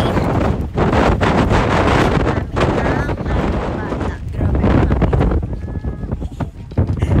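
Strong wind sweeping through a park on a festive day, loud gusty buffeting on the microphone that surges and dips throughout while a person speaks over it.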